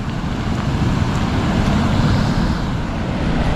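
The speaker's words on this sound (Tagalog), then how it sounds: "ang lakas rinig na rinig natin yung daloy ng tubig" Loud, steady flood water roars continuously nearby as a clogged spillway overflows in Laurel, Batangas, a broad constant torrent without pauses.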